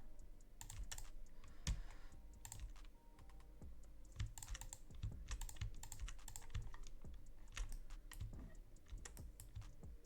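Computer keyboard typing and mouse clicks during a pixel-art drawing session, a steady run of close, irregular key taps and clicks over a low background hum, with no talking.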